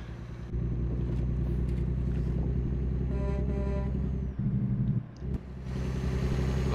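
Peterbilt 579 truck engine in American Truck Simulator, a steady low diesel rumble running throughout with a brief dip and surge near the end, no talking.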